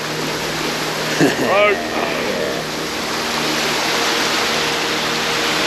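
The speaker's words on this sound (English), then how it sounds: "Can't beat the sound of water." Steady broadband rush of water from a stream in a windy fell valley at Rannerdale Knotts, continuous and fairly close, with a brief voice and wind buffeting partway through.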